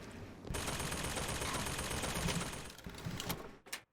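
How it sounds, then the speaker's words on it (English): Rapid automatic gunfire in BioShock Infinite: Burial at Sea, a dense sustained burst of shots rattling steadily for about three seconds before tapering into a few scattered, sharper reports and a short silence. "What the hell is shooting?"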